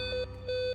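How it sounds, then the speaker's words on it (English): An alarm sounds inside a tower in a two-pulse pattern, each pulse a steady electronic tone, moderately loud and alone with no talk. "Alarms sound within the tower."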